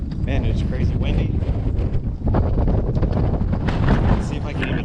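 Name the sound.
strong wind on the microphone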